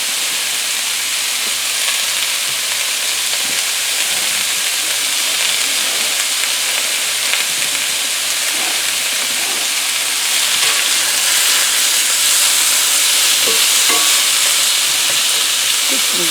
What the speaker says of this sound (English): Let it start to sizzle.